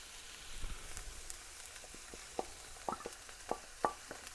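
Finely chopped broccoli stalks frying in a pan, a soft steady sizzle broken by a series of clinks and scrapes from stirring, growing more frequent toward the end, with no talking.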